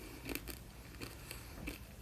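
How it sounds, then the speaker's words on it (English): Fox's Traditional Mint Imperials, hard mint sweets, crunch between the teeth in a few sharp, close bites and cracks, quiet and irregular with faint crackling between them. "If you can hear me crunching"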